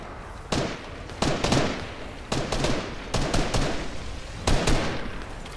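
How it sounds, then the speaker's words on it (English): Gunfire in the video game Fortnite, heard as repeated sharp shot bursts spaced across a few seconds over a steady game background, fairly loud and close, with no talk over it. "No, he's shooting at me."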